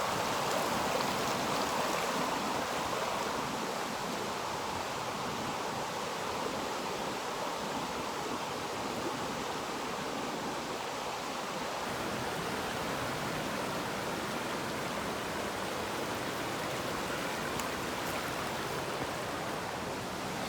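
A river runs through big rapids near a swimming hole, and the water makes a steady, broad rushing roar that stays constant throughout with no voices.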